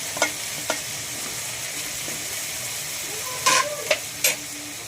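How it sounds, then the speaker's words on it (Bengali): Fried chicken pieces go into a pot for a restaurant-style chicken curry, sizzling with a steady close hiss of frying, with a few sharp clinks of a spoon stirring against the pot. "আমার সকল ভাজা মাংসগুলো দেখতে পাচ্ছেন আমি হাড়িতে ঢেলে দিলাম"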